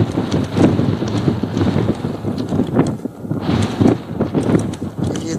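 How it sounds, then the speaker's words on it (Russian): Strong wind gusts across open Taymyr tundra under low cloud, buffeting the microphone loudly in uneven surges, with footsteps crunching underneath. "Ветрюга страшная."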